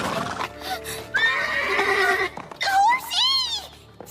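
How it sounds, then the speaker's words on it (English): Several loud horse neighs and whinnies from an English-dubbed anime, rising and falling in pitch, with a short pause between the calls. "He left his horsey!"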